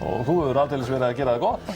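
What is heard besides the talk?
No everyday noises stand out.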